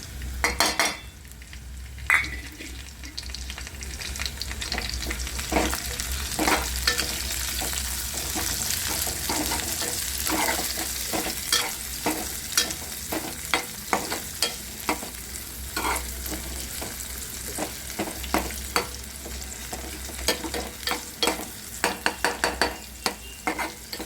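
Green chillies sizzle in hot oil in a pan while being stirred for a fenugreek vegetable dish, with frequent scraping and clinking of a spoon against the pan over a steady frying hiss.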